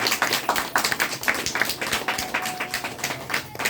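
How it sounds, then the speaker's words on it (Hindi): An audience claps in steady, dense bursts throughout a physical meeting in Bhagwanpur, the clapping near and continuous for almost four seconds with no clear talk over it. "एक बार जोरदार ताली"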